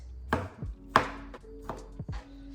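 Broccoli being rough-chopped with a knife on a cutting board: several sharp, irregular thumps of the blade with short gaps between them, close and alone with no voices.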